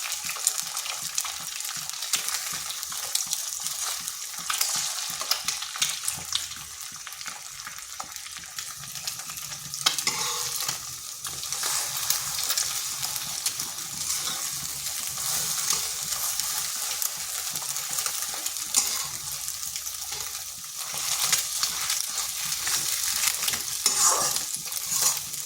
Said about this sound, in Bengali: ডিমটাকে আমি ঝুরি ঝুরি ভেজে নিচ্ছি।